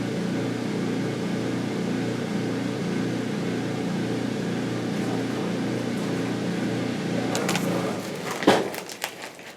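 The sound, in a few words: washing machine running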